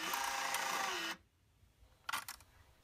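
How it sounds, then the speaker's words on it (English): A fluorometer's small built-in printer draws paper in with a steady mechanical whir for about a second, which stops abruptly and is followed by a short burst of clicking feed noise, close and faint, with no talk. "Press the Advanced Paper button. The paper will pull into the printer."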